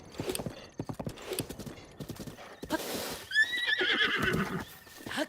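Horse hooves clip-clopping in a steady gait, then a loud neigh and whinny near the end, from a horse in the game The Legend of Zelda: Breath of the Wild, with no voices.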